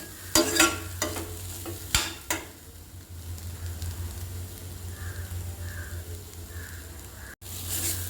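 A spoon scrapes and tosses a bitter gourd, carrot and grated coconut stir-fry in a pan, with a few sharp clatters early on, then a soft steady sizzle and occasional light stirring.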